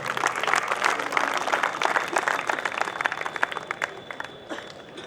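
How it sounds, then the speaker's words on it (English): A crowd applauds steadily, a dense wash of clapping that stays loud and then gradually thins out toward the end. "Please give a big round of applause for them"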